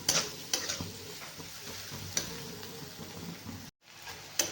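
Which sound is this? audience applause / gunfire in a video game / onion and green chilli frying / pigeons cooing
onion and green chilli frying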